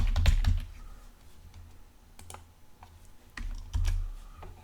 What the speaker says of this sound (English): I want to type in our binding width here